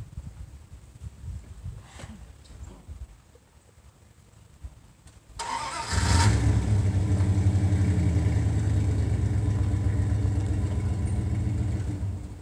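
A tow truck engine starts up about halfway through and settles into a loud, steady low rumble, revving slightly as the truck backs up. The first part is quieter, with faint low noise.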